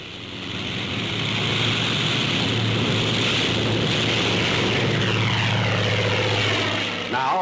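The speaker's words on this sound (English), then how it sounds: "A carrier plane takes off, relying solely on propeller thrust." A propeller plane takes off from an aircraft carrier deck on propeller thrust alone, a loud sustained engine and airscrew roar that builds and holds steady with wind-like noise.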